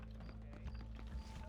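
Horse hooves clip-clop softly in Red Dead Redemption, a quiet, steady patter of hoofbeats under a low droning background, with no talk.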